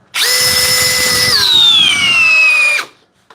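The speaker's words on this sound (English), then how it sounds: "so again, high speed drill mode" A cordless drill spins at high speed in drill mode, a loud steady whine running alone for almost three seconds, its pitch dipping slightly midway before stopping abruptly.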